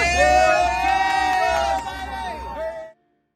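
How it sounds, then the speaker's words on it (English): Crowd of players cheering on demand after a playoff win over Tampa, a loud sustained roar with whoops and shouting that cuts off abruptly near the end. "So let me hear a cheer."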